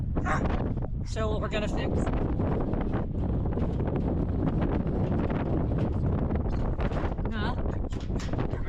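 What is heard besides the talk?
strong Wyoming wind blowing into microphone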